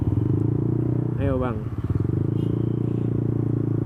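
A Yamaha Aerox motorcycle fitted with a racing exhaust runs with a steady, low, throbbing rumble close by, heard under a man's speech throughout.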